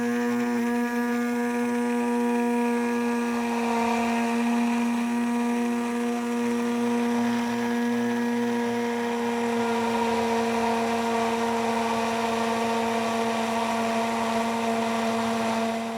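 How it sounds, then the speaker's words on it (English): An immersion blender whirs steadily while emulsifying oil and egg into mayonnaise in a beaker, a constant loud motor hum with a slight waver in pitch and no talking. "you'll want to start gently raising your immersion blender up and down until all of the oil is incorporated"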